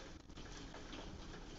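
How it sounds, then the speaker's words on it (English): Hail falls outside as a dense, steady patter heard from indoors, broadband and even throughout, fairly faint and with no voices over it. "Oh my God, it's hailing outside."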